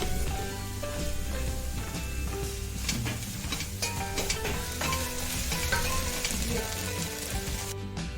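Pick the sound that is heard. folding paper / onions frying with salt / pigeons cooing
onions frying with salt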